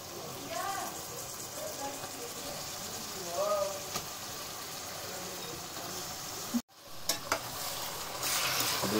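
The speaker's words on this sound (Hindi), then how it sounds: "अच्छे से मैं मिला लेती हूँ प्याज को चिकन को। हमें 1 से 2 मिनट तक प्याज और चिकन को अच्छे से इसमें पकाना है।" About 1.5 kg of chicken and onions sizzle in a pan while being stirred, giving a steady frying hiss with occasional scrapes and one sharp knock. Someone speaks over the cooking.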